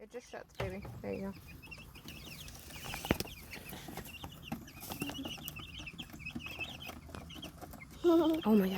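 Young chicks in a basket clucking and peeping in faint, scattered bursts, with a louder flurry near the end, while a person talks nearby.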